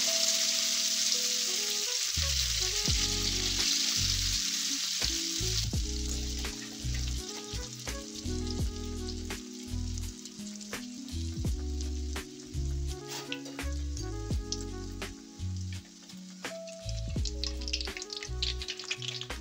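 Chicken kabiraji, battered chicken cutlets, fry in oil over a low flame with a steady, close sizzle that runs throughout, under continuous background music and a few small clinks.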